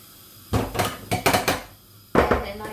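Canned soup goes into a pan of vegetables on a vegan lockdown cooking stove, with a few sharp metallic clanks and scrapes of can and utensil against the pan in quick bursts, close by and without talk.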